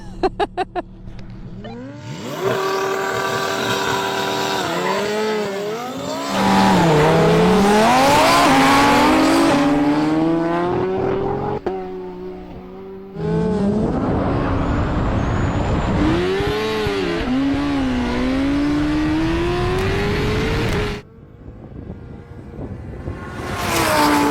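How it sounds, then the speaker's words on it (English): A motorbike accelerates hard down a straight drag strip in loud bursts, its engine note climbing steeply through the gears, with brief pauses between runs and one clear shift midway. "I've never been scared on a straight line race on a bike until I got on this one."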